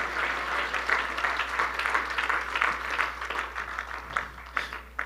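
A congregation applauds the Lord during a church service, a lively crowd clapping with distinct, closely spaced hand claps, fairly loud and slowly tapering off toward the end over a low steady hum.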